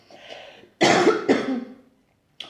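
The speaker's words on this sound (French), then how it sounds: "j'ai une toux" A woman with a cold coughs twice in quick, loud bursts, close to the listener, after a faint throat sound.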